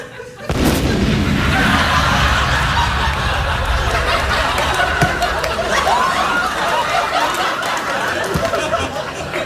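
A loud explosion sound effect on a late-night talk show bursts in suddenly and rolls on as a sustained roaring rumble, with audience reaction mixed in.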